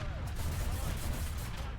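A Strf 9040B's 40 mm cannon fires in rapid bursts in War Thunder, dense repeated shots thudding at a steady rhythm over a constant low engine rumble.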